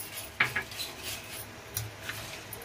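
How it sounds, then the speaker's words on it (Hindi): A spoon scrapes and taps against a pan while salted dal omelette curry is stirred, with one sharp metallic clink early on and softer intermittent scrapes after it, quiet and close. "अब इसको हम बढ़िया से चला लेंगे।"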